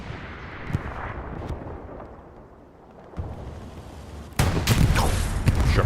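Tank gunfire between a Sherman and a Panzer IV in the video game Hell Let Loose, with booming cannon reports and rumbling blasts that build to a loud, dense barrage near the end.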